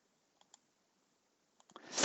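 Computer mouse clicking in a spreadsheet program, a few faint sharp clicks spaced apart, followed by a louder burst of clicking noise at the end.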